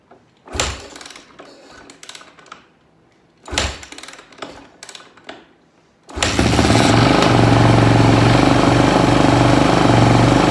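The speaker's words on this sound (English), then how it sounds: "we're gonna give it a couple priming kicks and see if she'll go" Kawasaki KX450F dirt bike with a no-start issue, choke on high idle, taking two priming kicks before the engine fires and settles into a loud, steady close-up roar.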